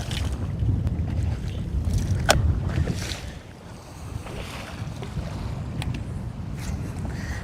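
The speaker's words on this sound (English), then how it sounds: "I'm out here in somewhat blowy wind." Gusty wind buffets a bass fishing boat on open water, a loud rushing roar that swells in the first seconds, eases, then carries on steadily, with faint knocks and water sounds.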